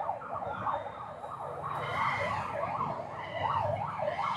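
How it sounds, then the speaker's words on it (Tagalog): An ambulance siren wails in a repeating rising-and-falling sweep, fairly faint and distant, caught in heavy traffic near an airport in Nepal, with low road rumble underneath and no speech. "Pati yung ambulansya naipit na din sa traffic."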